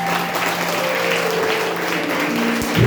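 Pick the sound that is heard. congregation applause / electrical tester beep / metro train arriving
congregation applause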